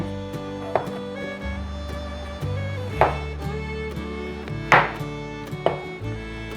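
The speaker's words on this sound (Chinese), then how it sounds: "把杏鲍菇切片" King oyster mushrooms sliced with a knife on a board, a few firm chops landing at uneven intervals over a sustained tonal background, close and fairly loud.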